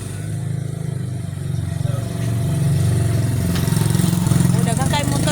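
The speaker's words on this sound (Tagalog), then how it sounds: "O, dagang kay motor nga nangagi." A motorcycle passes nearby on a street, its engine a steady mid-pitched drone that grows louder and swells toward the end, with people talking over it.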